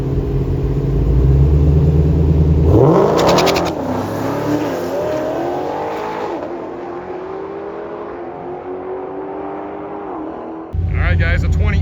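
A 2018 Dodge Demon and a 2023 Dodge Demon 170 launching down a drag strip at a Mopar event, a loud rising engine roar with gear shifts that recedes into the distance, with a voice talking over it.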